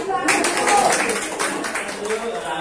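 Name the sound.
class clapping hands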